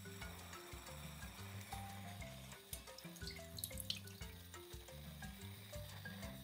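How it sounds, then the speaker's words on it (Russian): Water poured off a pot of beef tongue soaked in cold water with homemade apple vinegar, a quiet splashing, gurgling stream into a sink with drips and clinks, steady and close. "Первую воду я солью."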